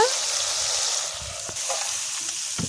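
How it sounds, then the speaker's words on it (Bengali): Spice paste for a Bengali bhola fish jhal sizzles in a hot wok, a loud continuous frying hiss with occasional stirring scrapes, close and without speech. "মশলাটাকে এবার আমি ঢেলে নেব।"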